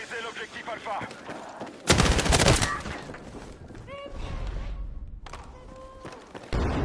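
Gunfire from weapons in a video game shooter match, with a loud burst of rapid shots in the middle and further shots near the end, set against game sounds and talk.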